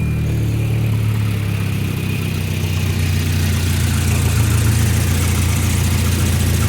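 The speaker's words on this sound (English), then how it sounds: "It's just idling." A car engine idling steadily after a battery rejuvenation, a constant low rumble with a smooth mechanical hum that holds even and loud throughout, with no talk over it.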